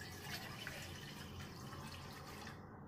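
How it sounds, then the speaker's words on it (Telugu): Water poured into a cooking bowl in a home kitchen, a steady splashing trickle running alone for about three seconds, cutting off near the end. "ఇప్పుడు ఇలాంటి ఒక గిన్నె తీసుకొని ఇందులో కొంచెం వాటర్ పోసుకుందాం"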